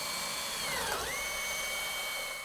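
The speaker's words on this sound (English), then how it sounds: "I clamp the mounting flanges and bore clearance holes." A power drill bores clearance holes in mounting flanges for a vent-free gas fireplace install, a close, steady whine with the pitch dipping once under load before it settles and trails off.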